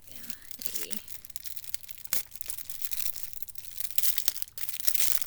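Plastic wig packaging being torn and crinkled open by hand, with soft irregular rustling and ripping bursts close by over a few seconds.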